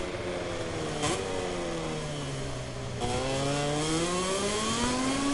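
A Moto2 racing motorcycle in a racing video game revs loudly and steadily, its engine pitch climbing and falling through gear changes with a brief dip near the middle, with no voices.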